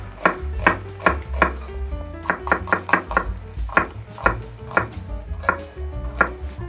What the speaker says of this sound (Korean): 똑같이 양파처럼 썰어서